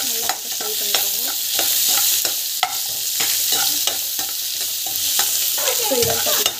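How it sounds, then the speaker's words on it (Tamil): Vegetables frying in hot oil for a paneer mixed-vegetable biryani, with a steady close sizzle and repeated sharp clicks of a spoon stirring against the pan, no voices. "ஸோ நல்லா வந்து ஃப்ரை பண்ணிக்கோங்க"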